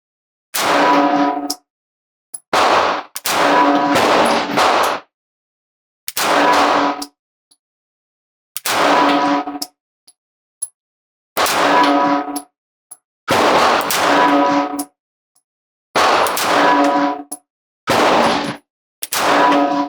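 CZ P-09 C Nocturne pistol with a Holosun 507K optic firing at steel targets outdoors, loud sharp shots in quick irregular strings, each followed by a ringing metallic clang, separated by silent pauses.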